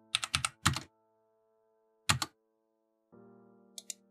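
A computer keyboard clatters in a few quick bursts of keystrokes, then a lone tap and a short pause before a final couple of clicks, close and clear over a faint steady hum.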